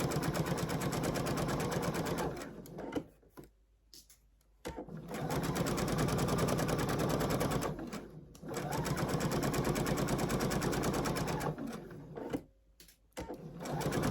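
A sewing machine stitches a quarter-inch seam on a pillowcase, running in long steady rapid bursts with brief pauses between them, close and loud.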